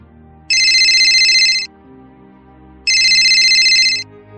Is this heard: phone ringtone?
yes